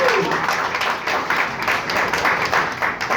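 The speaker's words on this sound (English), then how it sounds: "We have an applause to Frank." A stand-up comedy audience applauds, dense steady clapping filling the room at moderate loudness, with a voice briefly audible at the very start.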